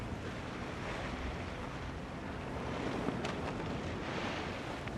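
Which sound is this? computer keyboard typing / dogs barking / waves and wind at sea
waves and wind at sea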